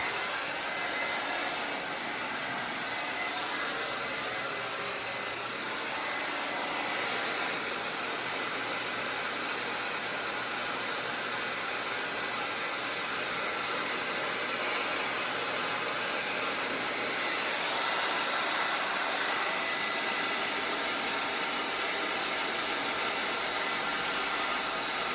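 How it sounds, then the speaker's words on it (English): A hair dryer blowing on fresh acrylic paint, a loud, steady whooshing roar that runs unbroken throughout with no voices. "I'm gonna blow dry this real fast"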